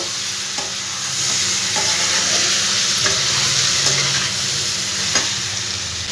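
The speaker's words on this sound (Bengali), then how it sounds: "ভালো করে মশলার সঙ্গে সবজিগুলো নাড়াচাড়া একবার করে দেবো।" Vegetables tossed with spices in a hot frying pan for a fish-head and bitter-gourd-leaf dish, giving a steady, close sizzle with scraping stir strokes throughout, no voices.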